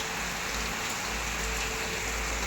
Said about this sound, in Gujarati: હજી પણ દોસ્તો વરસાદ ચાલુ જ છે